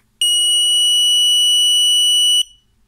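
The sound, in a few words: motion sensor alarm sounding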